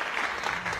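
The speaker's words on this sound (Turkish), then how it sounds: "Bu alkış ister." Studio audience at the 1997 Huysuz Show claps, a quick dense burst of many hands, fairly close and even, lasting under a second.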